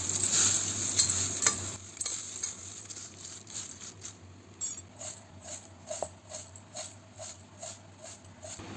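A spoon mixes masala papad chaat with lemon juice, red chilli powder and salt, giving crisp crackling scrapes early, then a run of regular soft clinking stirs close by.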